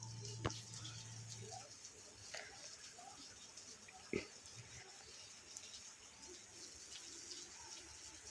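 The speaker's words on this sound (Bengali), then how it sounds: "এই বৃষ্টি থামার কোনো নাম নেই" Steady rain falls outside a home on a wet day, a soft, even hiss with a couple of faint knocks, quiet and distant.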